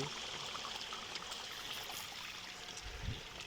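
Water rushes steadily through a pipe fed by a pump for a farm sprinkler system, with a constant hiss and trickle, close by. A brief low thump comes near the end.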